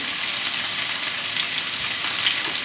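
Vegetables in cooking oil fry in a pan with a steady, close, bright hiss and crackle throughout, no talking.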